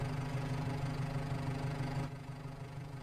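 A slow tractor engine idles in a farming video game on a Brazilian coffee-and-beans farm map, a steady low mechanical rumble with a slight knock that drops a little in loudness near the end, with no voices.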